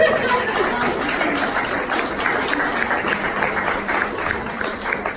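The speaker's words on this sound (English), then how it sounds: "And, yeah, you can clap again." Steady applause from an audience, a dense wash of clapping that holds at an even level throughout.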